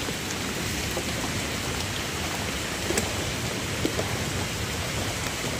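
Steady heavy rain pours down, a constant hiss of drops on surfaces with a few louder splats, close and enveloping.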